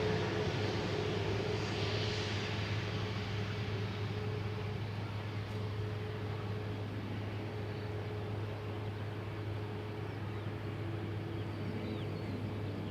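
A landing airliner brakes on Schiphol's Polderbaan runway, producing a steady broadband engine roar that holds loud and unbroken throughout with no voices.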